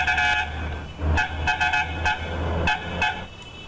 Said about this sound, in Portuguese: Daquela buzinadinha marota.